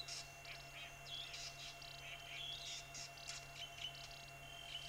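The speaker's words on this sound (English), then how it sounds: "this beautiful Verreaux eagle owl being mobbed by a fork-tailed drongo" Fork-tailed drongo mobbing a Verreaux eagle owl at dusk on a game reserve: a rapid, varied run of sharp chirps and tweets, moderately close over a quiet steady background hum.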